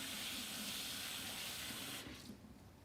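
Tap water runs steadily from a kitchen faucet as hands are rinsed, a continuous close hiss and splash that thins out and softens near the end.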